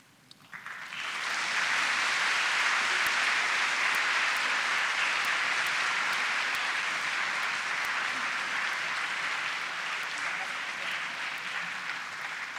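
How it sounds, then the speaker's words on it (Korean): An audience applauds to welcome a speaker at a church gathering, a sustained, dense wave of clapping that rises quickly and holds steady for about ten seconds. "나오실 때 한번 박수로 환영하는 것도 좋겠죠?"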